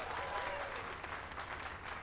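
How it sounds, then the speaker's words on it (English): Crowd applause in the video game Dragon's Dogma 2, a steady mass of clapping from a gathered audience honoring a sculpture, moderately loud and continuous over a low ambient rumble. "Let us give a round of applause for young Fulvio"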